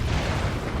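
Lascannon fire in a Dawn of War 2 battle, a short heavy boom with a low rumbling blast that fills the whole brief moment, loud and close, with no talk over it.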